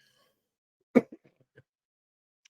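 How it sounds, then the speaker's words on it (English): A single sharp throat-clearing cough close to the microphone, followed by a couple of softer throat noises in otherwise near silence. "I apologize for this cough."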